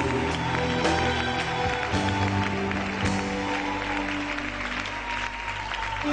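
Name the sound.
congregation applauding and acclaiming the Lord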